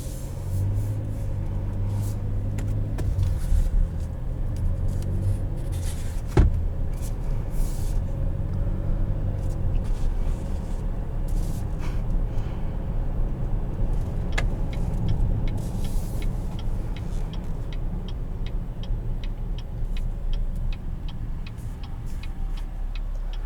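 A 2020 Buick Enclave Premium with a 9-speed transmission drives along, a steady low road and engine hum from inside the cabin with occasional ticking clicks and a sharp knock on top.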